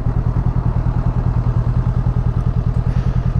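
A Honda Rebel 500 motorcycle idles nearby with a steady, low, pulsing engine rumble and a faint mechanical clatter, and no voices.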